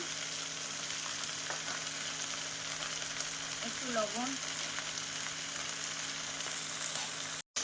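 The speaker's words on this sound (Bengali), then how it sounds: "আমার শাকটা ভাজা হয়ে গেছে" Saag greens with green chillies, turmeric and sugar fry in a pan, giving a steady close sizzle throughout, with a brief spoken voice over it.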